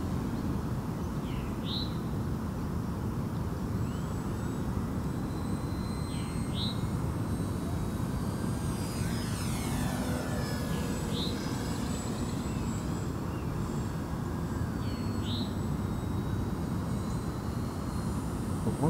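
An E-flite T-28 electric RC park flyer on a 3-cell battery hums faintly in the distance as it passes overhead during sport aerobatics. Steady outdoor wind rumble sits underneath, and a few birds chirp now and then.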